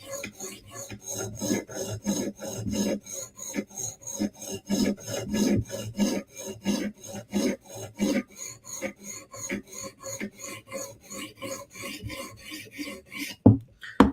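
A knife is sharpened on a coarse whetstone during profiling, with steady rhythmic back-and-forth rasping strokes close up, ending in a couple of sharp knocks; no speech.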